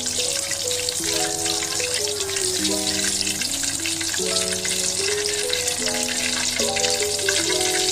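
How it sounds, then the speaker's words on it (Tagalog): Chicken wings for sweet and spicy buffalo wings get a second fry in oil, making a loud, steady, close sizzle beneath a melodic background music track. "Tapos, iprito ulit."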